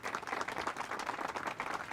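A live audience gives a steady round of applause for a giveaway winner, dense clapping sustained evenly for the whole two seconds with no talk over it.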